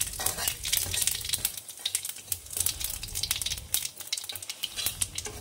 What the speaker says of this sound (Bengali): এবার তেলটা তো গরমই আছে, দিয়ে দেবো হচ্ছে 2টো শুকনো লঙ্কা দিয়ে দিই, মাংস অনেকটা আছে। আর দিয়ে দেবো জিরে।